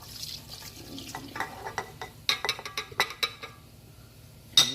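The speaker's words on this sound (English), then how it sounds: "So you just add the water." Water is poured and splashes into a bowl of breadstick dough mix, with a run of short splashy, dripping bursts in the middle and a final splash, close and alone.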